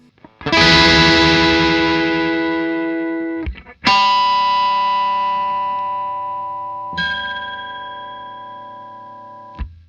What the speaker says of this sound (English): For this I use a bit of overdrive, a delay with modulation on the repeats